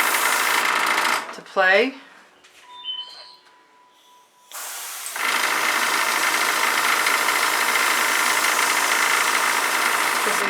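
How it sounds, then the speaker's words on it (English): An airbrush runs with a steady broadband hiss, spraying fluid acrylic paint for contemporary pour art; the continuous spray fills most of the clip after a brief break with a few faint sounds and a short voice. "every once in a while I just want to use the airbrush"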